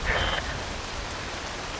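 Steady rain falls in the 2013 video game Metal Gear Rising: Revengeance, a dense, even hiss of drops spread across the whole clip, with a brief tonal sound mixed in at the start.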